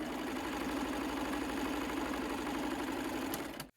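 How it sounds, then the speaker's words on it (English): A sewing machine runs steadily as it chain stitches quilt pieces together, producing a continuous, even mechanical hum with a fast regular rhythm that stops abruptly at the end, heard alone with no speech. "Then you can just keep chain stitching both pieces of your kit."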